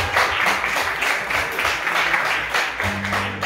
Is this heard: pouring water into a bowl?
no